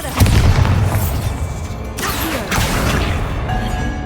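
Bombarda spell explosion from Hogwarts Legacy gameplay, a loud booming blast with crashing, rumbling debris sustained across the whole stretch, dense and close with no talk over it.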